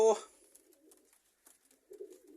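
Rajan pigeons coo softly in low, murmuring bursts, with a pause between two spells. A brief voice speaks at the very start.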